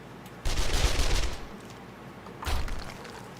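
SMG gunfire in the zombie survival game 7 Days to Die: a loud burst of rapid shots, a pause, then a shorter second burst, close and without talk.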